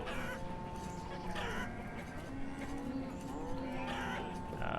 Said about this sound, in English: Shut up, cows.